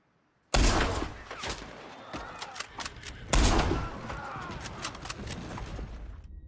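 Gunfire in the video game Red Dead Redemption 2: two loud sudden shots with echoing crackle and rattling tails, layered with game sound and some speech.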